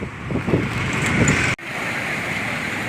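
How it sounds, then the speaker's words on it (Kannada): Steady roar of sea surf with wind buffeting the microphone, broken by a brief dropout midway, then the constant wash continues. "ನೋಡ್ರಿ ಸಮುದ್ರ"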